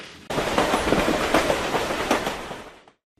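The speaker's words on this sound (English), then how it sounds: "today railway enthusiasts chartered a special train through both towns as part of their campaign for restored services" Special chartered passenger train carrying railway enthusiasts through Ashington and Bedlington in Northumberland: a loud, close rumble with steady clickety-clack of wheels over rail joints for about three seconds, then fading out, with no talk.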